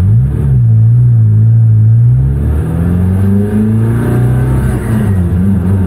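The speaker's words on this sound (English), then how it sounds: "we've got onboard footage of Ollie doing the 330 mile per hour run" Heard from onboard, a car on a 330 mph record run gives a loud engine roar whose pitch climbs and dips as it pulls hard, continuous and alone without any talking.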